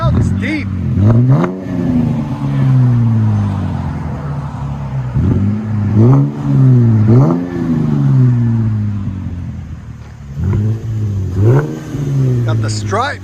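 Deep, close throttle blips from a Cadillac CTS 3.6L V6 running a rear muffler delete with 4-inch tips, coming in three clusters of sharp rises and falls with idle rumbling between them.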